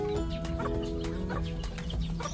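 A sick bantam hen kept in a separate pen clucks repeatedly at close range, with steady soft calls running through the whole short stretch over a low background hum.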